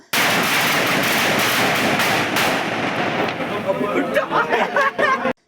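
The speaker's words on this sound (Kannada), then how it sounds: "ಪಟಾಕಿ ಸಿಡಿಸಿ ಸಂಭ್ರಮಿಸಿದರು" Firecrackers bursting in a rapid, dense crackling barrage at a village council chairman's election celebration, loud and close, with crowd chatter beneath and a few sharper pops before it stops abruptly.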